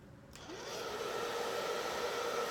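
A hair dryer clicks on and whirs up to a steady, airy roar that continues close by without pause while drying damp hair at the roots, no speech.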